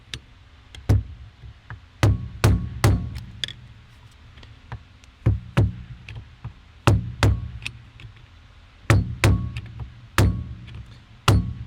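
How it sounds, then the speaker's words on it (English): A hammer strikes a bolt while loosening a Nissan 350z ignition switch, about twenty sharp metallic blows in uneven clusters, some quick doubles, close and clear against a quiet background. "we'll get on the right side of the bolt, and we're just gonna hammer. We're gonna hammer it loose"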